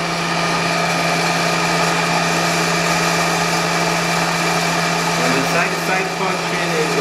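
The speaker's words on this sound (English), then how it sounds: "powered by a small motor here, so if you wanted to use the motor, you can." Small power feed motor on a Bridgeport 1 hp vertical milling machine, 230 V three-phase, driving the table side to side: a loud, steady high whine with a constant hum, unbroken throughout.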